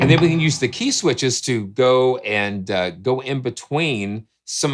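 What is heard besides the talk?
No everyday noises stand out.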